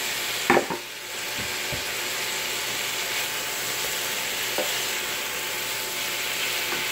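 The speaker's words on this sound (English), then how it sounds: "Since it's cooked halfway through, I am actually going to add the smoked kielbasa's." Smoked kielbasa sausage goes into a pan of half-cooked boneless chicken thighs, with a few quick clatters as it drops in, followed by a steady, moderate sizzle of frying.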